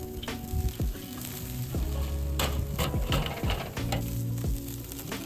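Broccoli sears and sizzles over the hot side of a two-zone fire, a loud continuous crackle broken by scraping and clattering as the pieces are stirred and turned.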